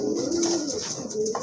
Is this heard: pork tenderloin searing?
no